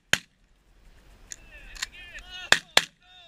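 Shotgun blasts during a goose hunt in an open field, one sharp report, then two loud shots close together later, with faint calls and movement between them.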